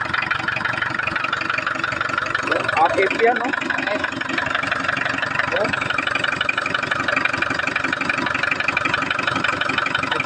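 A turbocharged Mazda car engine idles with a steady, even mechanical rumble and fine rapid ticking, close and constant throughout, while people talk briefly over it.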